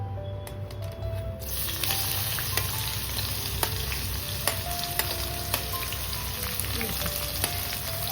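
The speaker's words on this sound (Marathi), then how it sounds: "कांदा आपण भाजून घेऊया चांगला" Onion sizzles in hot oil in a large kadhai, a dense, continuous frying hiss that starts sharply and holds steady, with occasional small crackles and pops close up.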